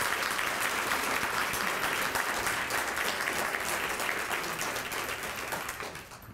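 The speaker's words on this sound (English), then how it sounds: "And let's give all of those recipients a round of applause." Guests at an environmental awards luncheon give a sustained round of applause for award recipients, a steady crowd of clapping hands that thins and fades toward the end.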